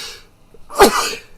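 A single sharp sneeze, close and loud, preceded by a brief breathy intake.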